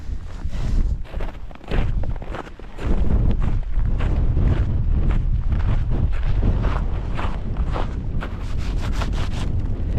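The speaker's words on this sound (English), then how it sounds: "Let's go away from this wind." Strong, gusting wind roars across a microphone high on a frozen mountain at minus fifteen degrees, a steady blustery rumble with buffeting bursts throughout and no talk.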